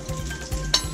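A burger patty sizzling on the grill rack of an Oyama turbo oven, a brief close crackle of frying with a soft scrape and clink as it is flipped.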